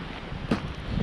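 Strong wind buffets the microphone at a roadside stop on an Arizona road trip, a steady rumbling rush with one brief louder gust in the middle.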